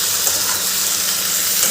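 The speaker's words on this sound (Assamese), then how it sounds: "এইখিনি দি ইয়াতে ভাজি ল'ম অলপ টাইম," Mutton and onions fry in a pan with a steady, loud, even sizzle and hiss that carries on without a break, no voices over it.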